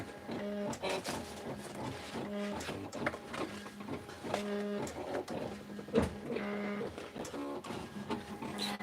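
A sticker cutting machine cuts out stickers, giving a repeating pattern of short whirring, buzzing motor passes with clicks in between, moderately close and steady, with no talk.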